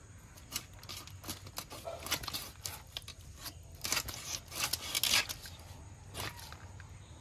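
Fresh rohu fish, scaled and still bleeding, is cut into pieces with a blade. Irregular crunching and scraping cuts come at close range, with denser bursts of chopping toward the middle, and there is no speech.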